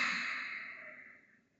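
A single slow exhale through the nose during a relaxing yoga breathing exercise, close and soft, fading gradually to silence with no talking.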